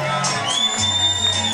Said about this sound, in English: You need a bigger round of applause than that. Put your hands together.